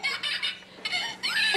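A bird clucks in a few short, close bursts with brief gaps between them, sharp and bright against a quiet background.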